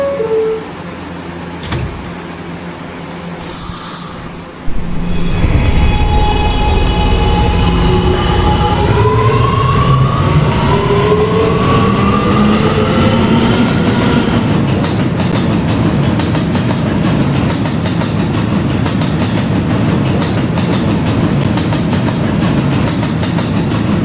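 A Roblox video game subway R train, an R211A, starts up with a rising electric motor whine, then rumbles and rattles steadily along the track, loud and close.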